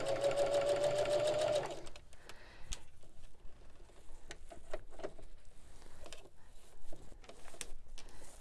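Sewing machine back-stitching a binding strip onto a fabric oven mitt: a loud, steady run of rapid stitching for under two seconds, then quieter handling sounds of fabric.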